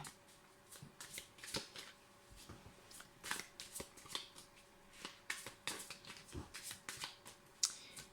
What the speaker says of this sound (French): je vais rapprocher les cartes